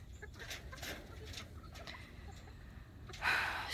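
Farm hens clucking softly in a low, rough chorus of short calls, with one louder squawk near the end, over outdoor background noise.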